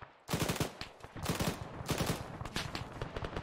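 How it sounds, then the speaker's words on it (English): Heavy gunfire rattles through an airsoft or milsim bunker-assault game: rapid, fairly close bursts of shots come in repeated volleys, with short pauses between them and no talk. "I'm taking some pretty heavy fire."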